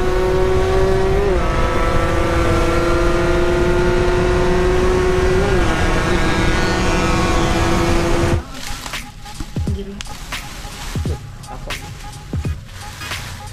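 A Kawasaki Ninja RR two-stroke motorcycle engine screams at a steady high pitch for about eight seconds, loud and close, then cuts off abruptly, leaving quieter clatter and scattered knocks.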